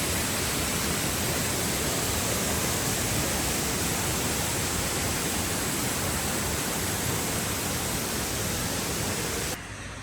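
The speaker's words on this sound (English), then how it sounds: "Ravana secret waterfalls" Ravana Falls in Ella, Sri Lanka, a steady, loud roar of falling water filling the whole stretch without a break, cutting off abruptly to a softer hiss just before the end.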